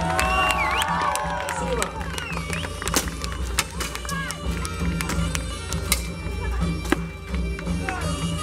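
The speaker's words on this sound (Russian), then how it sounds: "Поддержим аплодисментами бойцов!" Large crowd at a knightly combat tournament, the Silver Tatosh 2018 festival, applauding and cheering the fighters with dense clapping and shouts, staying loud and continuous throughout.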